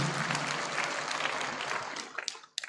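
Audience applause at an educators' conference in New Delhi, a steady dense wash of clapping that thins out and fades near the end, with a few last scattered claps.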